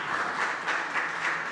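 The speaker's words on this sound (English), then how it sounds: "the big round of applause for our speaker" Audience applause for a speaker after a technical talk on consumer choice models, a brief burst of many hands clapping in a steady, even wash.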